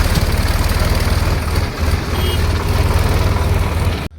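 A tractor engine idles nearby with a steady, loud, low rhythmic chugging that runs on evenly before cutting off abruptly near the end.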